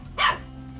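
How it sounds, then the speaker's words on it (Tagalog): A puppy gives a single short, sharp bark, fairly close, followed by quiet. "Ang ingay ng aking tuta."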